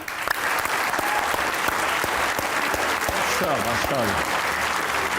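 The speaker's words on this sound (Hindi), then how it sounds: "आपकी भरपूर तालियों में सैयद सलमान गिलानी" Warm audience applause welcoming a poet onstage at a comedy talk show taping, a thick continuous roar of clapping with a few whoops and voices rising through it near the end.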